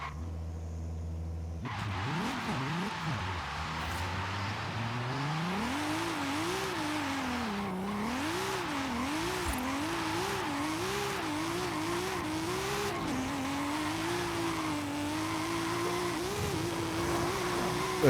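A new Toyota driven in Forza Horizon 5 revs hard with a loud, continuous engine whine that rises and falls as the throttle is worked through the gears. Tire squeal mixes in, and the engine stays close and steady for the whole stretch.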